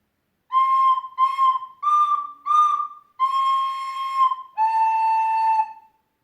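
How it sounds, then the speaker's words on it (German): A recorder (Blockflöte) plays the children's tune Hoppe Hoppe Reiter, six clear breathy notes alone: four short detached ones, then two longer held tones. "So, jetzt spiele ich mal wieder Hoppe Hoppe Reiter für euch."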